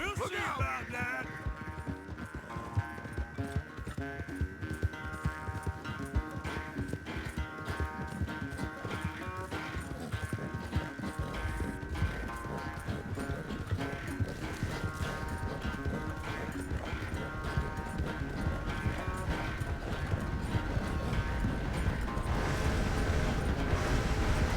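Horse hooves clip-clop steadily in Red Dead Redemption 2, a continuous trotting rhythm running under a dense musical score with occasional voices, fairly loud throughout.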